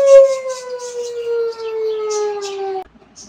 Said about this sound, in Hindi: सायरन बज रहा है, टाइम तो नहीं हुआ अभी।